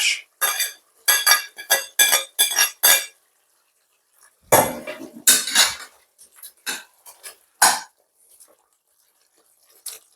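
Seasoned carrots and mixed vegetables tipped into a pot for curry oxtail, a burst of metallic spoon-on-pot clinks and scrapes, a pause, then more scattered clanks, close and fairly loud.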